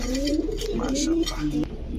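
Baghdadi pigeons at a bird market coo in low, wavering tones, a few calls overlapping at close range over a constant background hum, with faint clinks mixed in.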